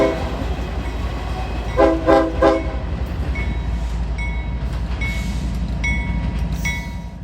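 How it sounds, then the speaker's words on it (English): An intermodal freight train rolls past a trackside spot in Folkston, Georgia, with a loud, steady rumble of wheels and cars and a brief horn-like tone early on, and no voices. "let's wait for this intermodal train to pass"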